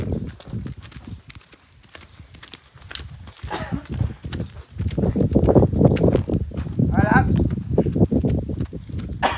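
A mare's hooves clip-clop on a farm as someone tries riding her, uneven thudding steps that grow louder and busier midway, heard under people talking.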